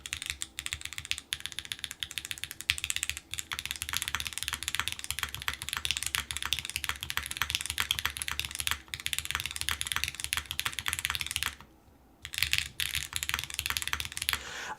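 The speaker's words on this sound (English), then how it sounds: "these switches are snappy" Rapid close typing on a WLMOUSE Huan63 mechanical keyboard with snappy switches in an O-ring configuration, a dense stream of crisp clacks that pauses briefly near the end, then resumes.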